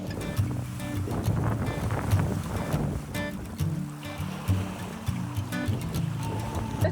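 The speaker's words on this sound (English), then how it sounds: "Sun's coming up behind us as we're just slowly sailing along." A sailboat slowly sailing along at sunrise off Java, with a steady wash of water against the hull and gusty wind across the microphone, continuous and close throughout.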